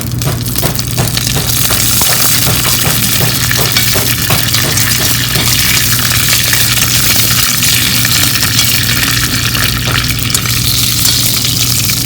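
Mustard seeds and curry leaves splutter and crackle loudly in hot ghee, a dense continuous sizzle with rapid popping throughout, close up and without talk.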